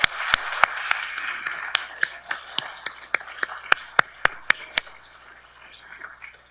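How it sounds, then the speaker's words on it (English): An audience applauds a graduating pharmacy class at a hooding and awards ceremony, with scattered sharp individual claps standing out over a soft background of clapping that thins toward the end. "Let's give them one more round of applause for all their accomplishments"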